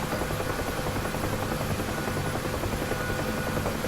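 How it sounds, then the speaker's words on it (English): A helicopter in the combat flight sim DCS gives a steady, loud, continuous rotor and turbine drone, unbroken and alone with no voices. "And helicopters scream."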